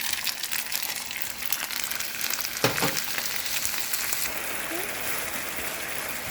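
Rice noodles and sauce stir-frying in hot oil for a shrimp mei fun, giving a steady loud sizzle with a brief sharper burst near the middle and the scrape of stirring, with no talk over it.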